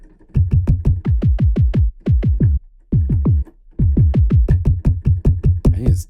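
Rapid bursts of deep, punchy thump samples play in quick round-robin groups, separated by brief pauses, loud and dry with sharp attacks.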